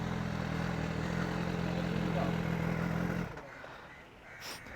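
BMW S1000 superbike at a Chennai motorcycle meet-up, a loud, steady engine roar for about three seconds before it cuts away, leaving faint background noise.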